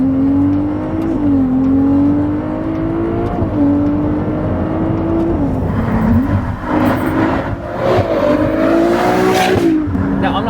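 Ferrari 296 GTB exhaust revving on narrow back roads, a loud, high-pitched engine note holding and dipping with gear shifts, later joined by raspy bursts and crackles, close and continuous.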